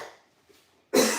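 A single sharp cough from a piece of bacon caught in the throat, close and abrupt after near silence and a faint breath.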